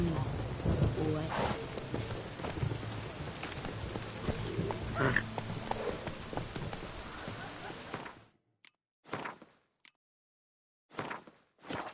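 Horse hooves clopping steadily through rain in The Witcher 3 video game, the galloping mixed with rainfall and a voice talking over it for the first eight seconds, then cutting to brief bursts and silence.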